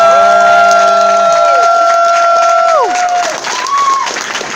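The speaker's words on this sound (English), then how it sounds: "let's have a loud round of applause for them so the staff can hear it all" A crowd at a convention closing ceremony gives loud applause and cheering, dense clapping under several sustained whistles or shouted tones that glide down and fade, staying loud throughout.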